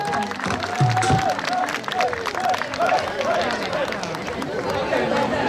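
Audience applause and crowd noise fill an outdoor Thingyan water-festival stage event in Gunma, Japan, welcoming a Daung Gyi troupe's performance; steady clapping runs throughout with voices over it.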